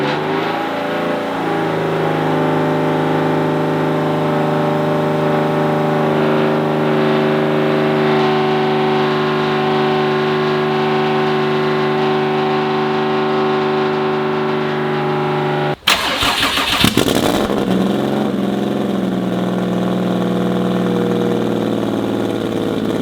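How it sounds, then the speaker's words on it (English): A Porscharu car with a fender-exit exhaust idles steadily and close by, a low, even engine drone with a brief jolt and shift in tone partway through before it settles again. "it actually does sound quieter with the fender exit rather than having the full exhaust"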